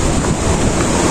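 Gokak waterfall in Belagavi, Karnataka, with water rushing strongly, a loud, steady broadband roar with wind buffeting the microphone, continuous and close, with no talk.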